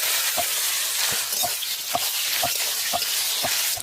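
Fried eggplant sizzles in a pan with cumin seed tempering and green chilies, a constant close hiss punctuated by regular scraping stirs about every half second.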